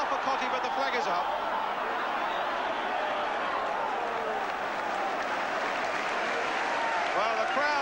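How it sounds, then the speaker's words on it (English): A football crowd at a West Ham United match applauds, a broad sustained wash of clapping and crowd noise from a large stadium, with a commentator talking over it. "the crowd applauding that one-touch football by West Ham"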